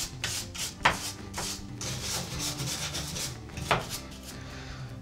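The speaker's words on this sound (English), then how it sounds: "So now I'm going to use a little handheld brush to brush out any of the extra dust that's left." A small handheld brush sweeps leftover grout dust out of shower tile joints, giving soft, close scratchy bristle strokes in a quick irregular rhythm.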